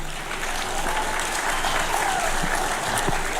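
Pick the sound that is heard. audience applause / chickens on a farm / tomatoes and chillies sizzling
audience applause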